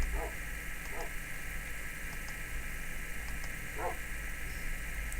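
A few short barks and yips from wolves in Minecraft ring out over a constant background hum, spaced apart, with faint whining between them.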